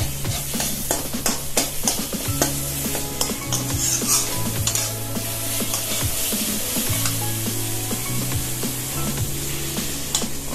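Sprouted masoor lentils frying in tomato masala, a dense continuous sizzle with stirring and utensil scrapes throughout, steady and close, with a low background hum.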